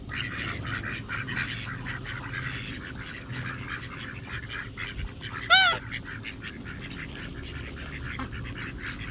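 White mallard ducks are fed outdoors, giving a single loud honking quack near the middle over a steady noisy background of outdoor ambience and rustling.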